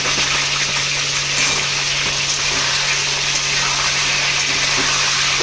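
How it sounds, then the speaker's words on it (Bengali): Chicken pieces frying in hot oil in a home kitchen, a steady, even sizzle and hiss running throughout with a faint low hum beneath, close and unbroken, with no talking. "এইবার আমি এই তেলের মধ্যেই এই চিকেনগুলোকে অল্প অল্প করে ভেজে নেব"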